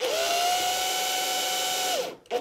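A power screwdriver drives screws into a wooden bee box, a close, steady high-pitched whine for about two seconds that winds down, followed by a short second burst.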